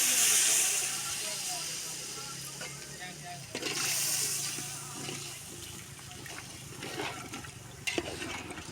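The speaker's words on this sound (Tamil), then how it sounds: "முதல்ல வந்து வெறும் பச்சை தண்ணி ஒரு கப்பு ஊற்றிக்கிறோம்." Plain water pours steadily from a cup onto soaked rice in a pot while biryani is being made, a close hissing splash that swells and fades as a person talks over it.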